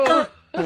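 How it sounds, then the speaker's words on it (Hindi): A woman gives two harsh, close coughs separated by a brief pause, in a comedic skit set at a doctor's visit. "डॉक्टर साहब सुबह से मेरी खांसी नहीं जा रही"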